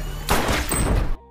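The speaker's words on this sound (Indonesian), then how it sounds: "tiba-tiba Firoz ditembak mati" A gunshot rings out in a crime film scene where a man is suddenly shot dead, a loud, close, sharp blast with a rough reverberating tail lasting under a second before cutting off.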